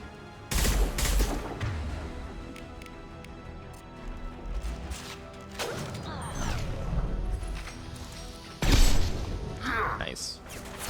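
Explosions and gunfire in Mass Effect 2 come as several sharp, loud bursts and rattling volleys, with quieter clatter between the blasts.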